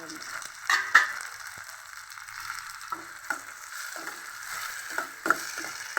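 Chopped tomatoes frying and stirred in a pan for a dry prawn and drumstick curry, a soft steady sizzle with a few sharp spoon scrapes and clinks, close and alone.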